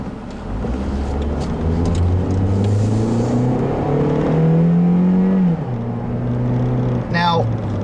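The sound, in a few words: 2012 Toyota Corolla S accelerating during test drive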